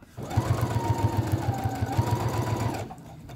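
A sewing machine runs a steady rapid stitch through fabric for a reusable snack bag, a close, even mechanical whir and rhythmic needle thump lasting a few seconds before stopping.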